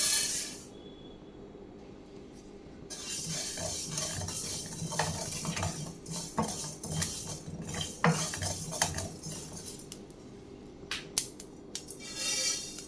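Mustard, fenugreek, cumin and fennel seeds dry roast in a pan, with a spoon scraping and clinking against the metal in irregular bursts and soft rattling and faint crackle, close and alone without talk.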